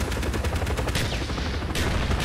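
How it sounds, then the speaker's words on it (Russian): Gunfire in Call of Duty Black Ops, rapid automatic bursts rattling loud and close in a continuous dense stream, with a short lull before firing resumes. "Да кто по мне стреляет?"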